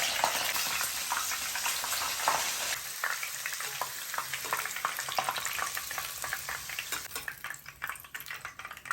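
Steady sizzling of methi na gota (fenugreek-leaf fritters) frying in hot oil, close and crackly, with occasional light scrapes and clinks of a utensil, no talking.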